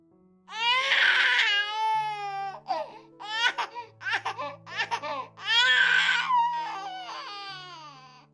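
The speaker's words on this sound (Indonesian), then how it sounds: "Suara bayi terdengar sangat keras" A baby cries loudly as a sound effect in an audio drama, with several long, high, wavering wails broken by short sobbing bursts, close and alone.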